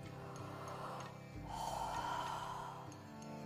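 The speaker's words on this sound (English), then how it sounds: "Let's take a very deep breath before this." One deep breath drawn in through the nose, a long, close airy inhalation lasting over a second, set against quiet background tones with no talking.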